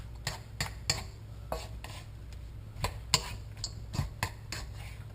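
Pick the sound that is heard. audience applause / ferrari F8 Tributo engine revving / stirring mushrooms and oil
stirring mushrooms and oil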